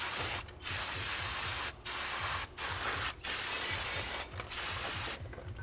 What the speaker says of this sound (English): we're going to hit everything with some brake clean